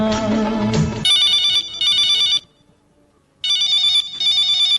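A telephone rings for a Hindi radio phone-in request programme, loud and electronic. Two bursts of ringing are separated by a short silence, and the sound enters right after a song fades.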